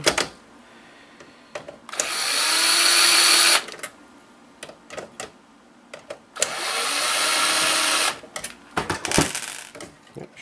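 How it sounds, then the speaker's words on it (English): A cordless drill used while scrapping a video game console for precious metals whines loudly in two sustained bursts, with clicks, clatter and handling noises of parts in between. "should have charged my drill before doing this."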